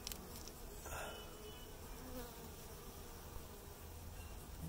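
Bees buzz around a beehive brood box outdoors in a faint, continuous drone, with a slightly louder pass near the start.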